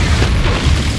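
Loud, booming burst from an Expulso spell explosion in the video game Hogwarts Legacy, a heavy rumbling blast that fills the short moment with low roar.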